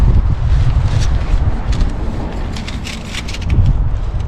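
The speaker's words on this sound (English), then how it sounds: "it's kind of windy out here" Wind gusts outdoors at a tent campsite, a loud, steady roar of wind buffeting the microphone.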